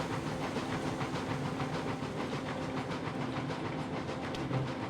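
A steam locomotive in the video game Railroads Online chuffs in a steady, rapid rhythm on a gradient under a hissing rumble, with faint clacking of 14 loaded iron freight cars rolling along.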